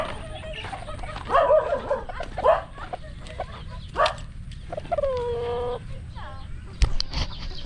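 A chicken clucks repeatedly up close, a run of short calls with a brief squawk near the end, over low background noise.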